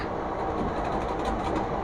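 A passenger train carrying pilgrims back from Ayodhya rumbles along the rails, heard from inside a coach as a loud, continuous roar with faint rhythmic clatter.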